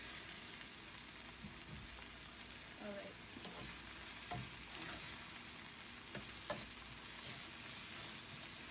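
Masala for pav bhaji roasts in a pan with a continuous close sizzle and crackle, broken by occasional scraping stirs of a spoon against the pan.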